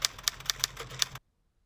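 An old typewriter found in a barn clacks out six quick, uneven keystrokes over about a second, close and fairly loud, then stops dead into silence.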